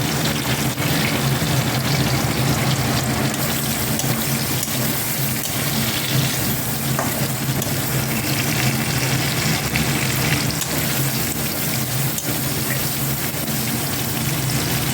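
Whole garlic cloves and a little chopped onion frying in hot oil in a pan for masala chicken, giving a steady, continuous close-up sizzle that runs without pause and without talk.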